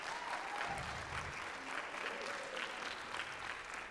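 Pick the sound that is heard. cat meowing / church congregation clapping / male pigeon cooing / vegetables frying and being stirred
church congregation clapping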